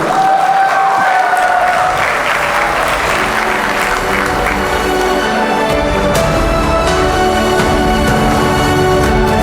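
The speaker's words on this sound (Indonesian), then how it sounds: "kita beri tepuk tangan yang meriah." Loud, sustained applause from an audience at a Maulid Nabi commemoration, dense clapping filling the whole stretch, with music or a tonal sound rising and fading early on and the crowd continuing to clap steadily.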